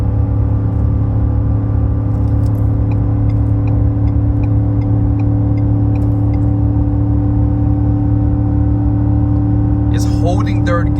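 A Ford F150 pickup with the 5.0L Coyote V8 pulls a trailer up a 6% grade, its engine droning loudly and steadily under load, with a faint higher sound near the end.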